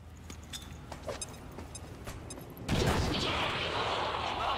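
A grenade blast from the XCOM 2 video game erupts as one sudden loud burst that swells into a sustained, roaring rumble, following a quieter stretch of soft clicks and background game sounds.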